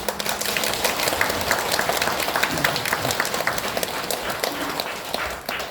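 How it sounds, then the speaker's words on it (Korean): An audience claps steadily through a Buddhist dharma talk at a special first-of-the-lunar-month service, a dense, even patter of many hands that holds for several seconds and thins slightly at the end. "박수 치는 폼이 끝낼 시간 됐다고"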